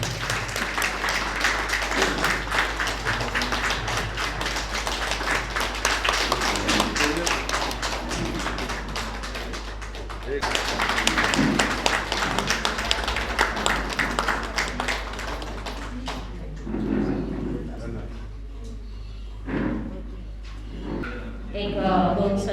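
Clapping from an audience at a foundation ceremony presenting an appointment letter, steady dense applause under a constant hum, tapering off near the end as voices come through.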